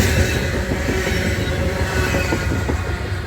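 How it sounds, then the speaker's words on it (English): Loaded northbound coal train passing close through Abbeville, a continuous heavy rumble of rail cars with faint wheel clatter and squeal, steady and loud throughout. "Loaded coal train, y'all."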